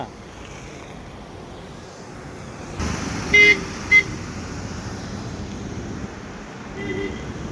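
A vehicle drives through sewage floodwater pooled on a national highway near a lake, creating a steady rushing wash of water and engine noise with two short horn toots partway through.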